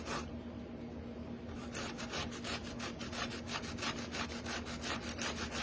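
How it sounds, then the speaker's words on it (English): A zucchini is grated on a hand grater in a home kitchen, giving rapid, rhythmic rasping strokes close up, steady and evenly spaced after a brief pause at the start, with no talking. "Just grate it on your grater."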